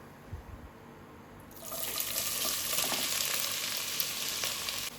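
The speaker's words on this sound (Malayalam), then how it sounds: "ഇതിലേക്ക് മൂന്ന് സവാള ചെറുതായി കട്ട് ചെയ്തത് ചേർത്ത് കൊടുക്കാം" Chopped onions hit hot sunflower oil, starting a loud, steady broadband sizzle about a third of the way in that carries on close by to the end; there is no talk.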